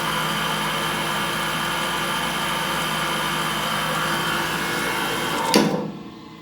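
A Diehl profile grinder runs with a steady, loud mechanical hum and whine, unchanging for several seconds before a sharp click and the motor winding down.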